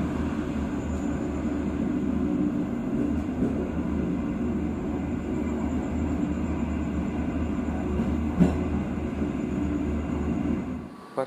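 Steady low rumble of the Gaya Baru Malam Selatan passenger train rolling along the tracks near Jombang station, Indonesia, continuous and fairly loud, with a faint squeal near the end.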